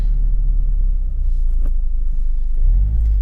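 A 2020 Mazda Miata revs while held against the brake, a loud, steady low engine rumble close by that builds slightly toward the end.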